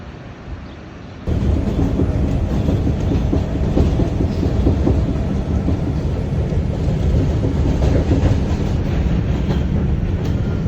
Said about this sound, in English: I'm about to go get on the train.